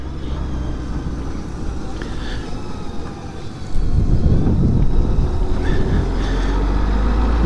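A Honda Goldwing motorcycle out riding on a warm afternoon, its steady engine drone mixed with heavy wind buffeting the microphone, growing louder and rougher partway through as the speed picks up.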